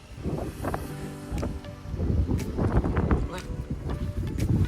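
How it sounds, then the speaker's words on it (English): A tractor engine rumbles low and steady nearby, building in strength over a few seconds, with wind buffeting the microphone. "let's start up the tractor and I'll pull and we'll see if this thing will go up"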